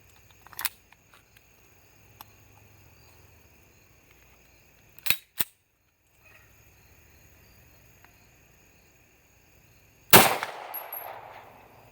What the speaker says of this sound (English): I'm gonna shoot a 9mm full metal jacket and a 40 caliber full metal jacket.